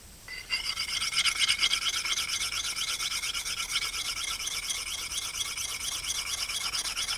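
A hand file rasping along an axe edge in steady back-and-forth strokes, a close, continuous gritty scraping that starts abruptly and keeps an even rhythm throughout.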